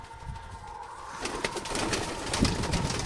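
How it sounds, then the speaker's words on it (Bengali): Young pigeons in a new cage coo softly while wings flutter and flap in bursts, the flapping growing busier and louder in the second half. "এগুলো সব বাচ্চা পায়রা আছে, এগুলো সব নতুন"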